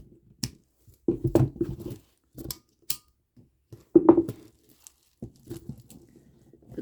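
Small scissors snip a string of beads on a rave kandi bracelet in a few short, sparse cuts and crunchy handling noises, close by and quiet, with no talk.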